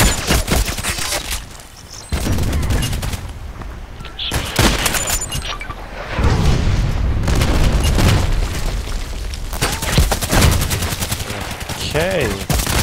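Shotgun blasts in the online shooter Contract Wars, loud booming shots repeating in irregular bursts amid other gunfire, with brief talk in places.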